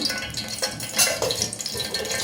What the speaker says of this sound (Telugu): నేను శనగ నూనె వేస్తున్నాను